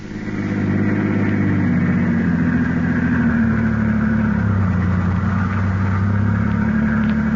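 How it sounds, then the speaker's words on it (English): A car engine drones steadily as it is driven in a 1949 radio drama, a continuous muffled mid-pitched hum that holds evenly for several seconds with a slight shift in pitch partway through. "The 2 men are now driving in Garrett's car"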